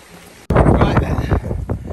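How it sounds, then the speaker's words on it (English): Strong wind suddenly buffets the microphone on a coastal path, a loud, gusty roar rushing on after a quieter opening. "A bit windy again."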